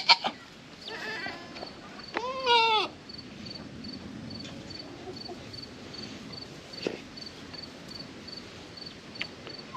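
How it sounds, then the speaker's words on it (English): Goats on a homestead, with one clear wavering bleat near the start and a few sharper calls, set against a constant chirring of insects in an outdoor farmyard. "See how all the other goats are up there eating?"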